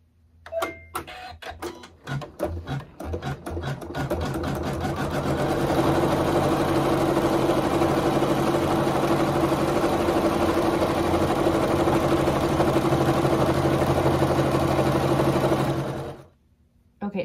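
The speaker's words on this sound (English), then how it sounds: "And now we'll just sew our seam." A sewing machine stitches a fabric seam, starting with a few short bursts before settling into a loud, steady rapid whirring run that stops abruptly near the end.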